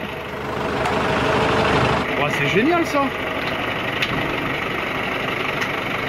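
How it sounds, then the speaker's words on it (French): A coal mine winch engine runs deep underground, a steady idling drone with a brief rising whine partway through, while a person speaks over it. "Le moteur, la boîte, arbre de transmission, le pont et le treuil."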